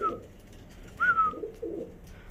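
A pigeon coos nearby in a breeder's loft in two or three soft, throaty phrases, with quiet pauses between them and no talking.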